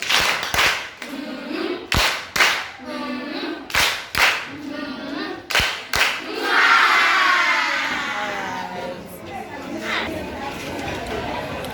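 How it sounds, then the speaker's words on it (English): A group performs a rhythmic patterned clap, repeated sharp bursts at regular intervals, then dissolves into excited shouting and crowd chatter. "And then let us add the love clap"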